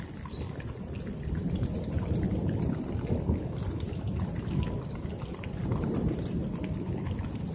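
Heavy rain pours steadily through a severe thunderstorm, with deep thunder rumbling continuously underneath, loud and close with no voices.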